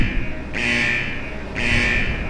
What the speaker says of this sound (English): That's definitely an alarm.